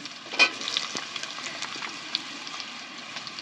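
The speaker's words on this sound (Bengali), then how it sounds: "এবার আমি একই সাথে কাঁচকলাগুলোও ভেজে নেব।" Raw plantains frying in a pan alongside half-fried potatoes, a soft steady sizzle with a brief louder spatter near the start and light stirring clicks, close and moderately quiet.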